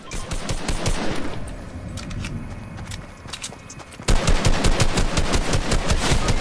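Rapid automatic gunfire in a video game, dense bursts of shots that ease slightly midway and then return louder and more sustained, with no talking over it.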